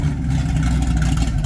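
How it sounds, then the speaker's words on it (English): A car engine with a new exhaust idles with a deep, boomy, boat-like burble, loud and close, steady throughout. "I'm surprised it's not dying, but my God, it sounds like a boat."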